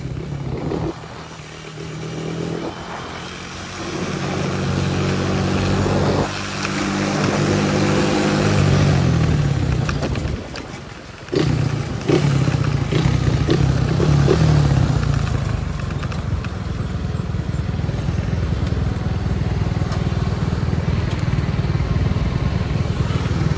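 Honda CG 150 motorcycle engine running steadily while riding, a loud continuous drone with slight shifts in pitch and a brief dip midway, close and constant throughout.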